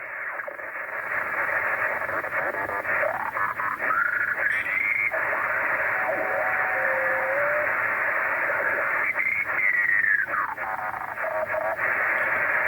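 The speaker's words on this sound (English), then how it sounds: "got some strange crackling and static on the band today" Crackling static and hiss on the 20 m amateur radio band, received on a three-element beam and a vertical antenna, with a steady noisy band and a few drifting tones sweeping through over about twelve seconds.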